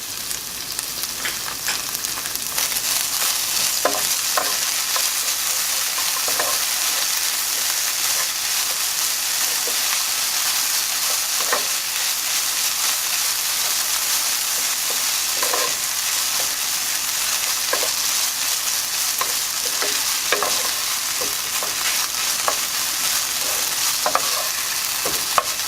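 Butter and pepper sizzle and fry steadily in a frying pan with a constant hissing crackle. Occasional soft stirring scrapes sound throughout, with no talk.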